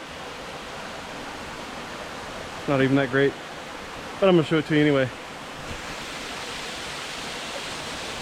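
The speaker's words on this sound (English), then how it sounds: "After everything I've seen, this waterfall," Steady broadband rush of El Tigre Waterfalls in the cloud forest of Monteverde, Costa Rica, roaring continuously throughout, with someone speaking briefly over it midway.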